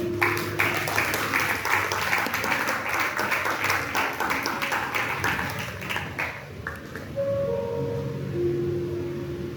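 Loud congregational applause in a church fills the first six seconds with dense, steady clapping, then thins out as a few scattered voices and sustained tones take over toward the end.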